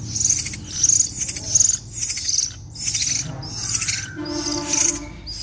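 Crickets kept as live food for young mynah birds chirp loudly and close by in rapid pulsing bursts that repeat steadily, with no voices.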